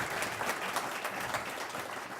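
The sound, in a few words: audience applause for the panel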